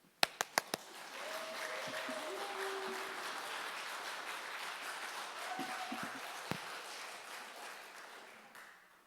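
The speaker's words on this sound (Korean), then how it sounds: "목사님 나오실 때 환영의 박수" A church congregation gives welcoming applause for a pastor. The clapping swells into a sustained round after a few sharp opening claps, then slowly fades. Faint murmurs and brief tones sit beneath it.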